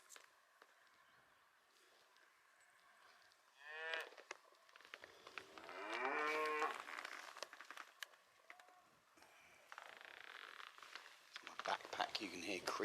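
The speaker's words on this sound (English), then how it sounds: "Lots of cattle voicing their objections." Several cattle moo on open Dartmoor moorland, drawn-out calls rising at intervals near and far, with a hiker's backpack creaking and occasional quiet talk.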